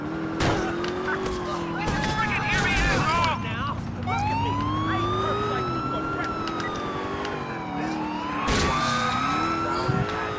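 Police car siren in the GTA 4 video game, a wailing rising and falling tone over engine and traffic noise, loud and continuous, with someone talking over it.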